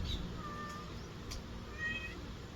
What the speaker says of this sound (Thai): แมวมาใหม่